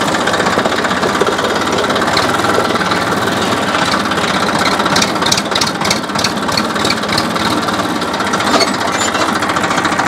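A tractor engine runs steadily on a farm plantation, a loud continuous diesel-like rumble with a rattling, knocking texture and no pauses, heard alone without talk.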